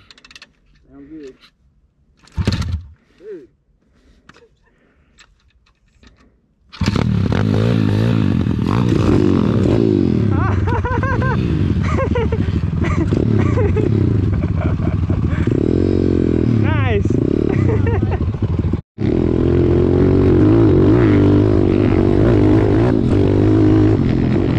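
Pit bike engine on a backyard hill-climb track, quiet clicks and bumps at first, then the motor bursts into a loud, continuous, close-up rev with wavering pitch and a brief cut near the end, with voices heard early.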